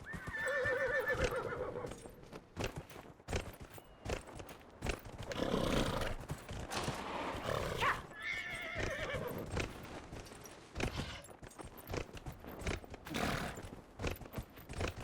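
Horse neighs and whinnies, then clip-clopping hooves, from the video game Dragon Age: Inquisition in the Western Approach, a loud close whinny early on followed by repeated hoofbeats and further neighing with no talk.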